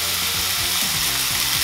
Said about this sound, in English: I love to hear this frying pan just sing a song.